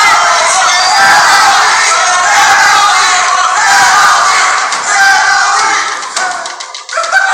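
A loud crowd at a Star Wars Schmoedown trivia show cheers and yells in a sustained roar close by, tapering off near the end with scattered claps.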